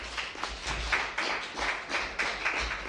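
Audience applause welcoming a guest speaker to the front of a room, a steady spread of many hands clapping, moderately near and continuous throughout with no talk over it.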